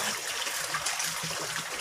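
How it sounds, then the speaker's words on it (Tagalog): Water trickles and splashes as it is poured into a koi pond built from recycled materials, a steady nearby flow with faint gurgling pulses and no talking. "Ngayon, lalagyan ko na po ito ng tubig galing dito at saka fresh water din"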